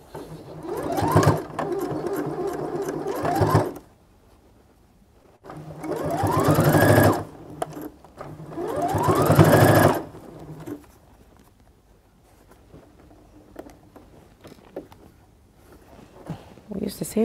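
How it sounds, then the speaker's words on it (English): A sewing machine runs in three bursts, each a couple of seconds long, as it stitches fabric. Quiet stretches with faint handling sounds fall between the runs. "take it back to the sewing machine and sew"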